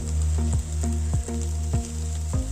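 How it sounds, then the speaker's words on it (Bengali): Spiced drumstick (moringa) pods fry in a pan, giving a continuous close sizzle punctuated by regular rhythmic scraping strokes of a spatula, with no talk. "এটা আরও কিছুক্ষণ ভাজতে হবে"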